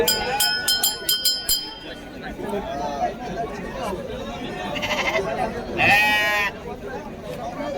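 Sheep and lambs bleat repeatedly amid a busy crowd, with people talking throughout and one loud, close bleat standing out.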